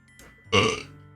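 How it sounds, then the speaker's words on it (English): One loud, close burp rises abruptly and then fades out over about half a second, with no talking around it. "Sorry, y'all, I burped."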